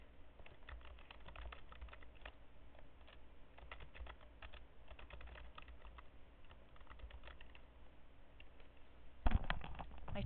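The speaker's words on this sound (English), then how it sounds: "I type in my topic." A search topic being typed on a computer keyboard: quiet, fairly rapid clicking of keys in irregular bursts, ending with a louder thump of a keypress.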